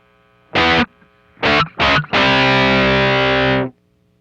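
Electric guitar played through its neck single-coil pickup on a Strymon Riverside overdrive pedal, three short distorted notes followed by a long sustained chord that rings out and cuts off, with a low hum underneath.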